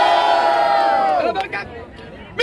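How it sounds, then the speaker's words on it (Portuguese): Rap battle crowd roaring and cheering for the MC LC at the 106th Batalha da Aldeia in Barueri, a loud sustained wall of voices that dips briefly, then surges again at the end. "Barulho pra quem curtiu as rimas do LC!"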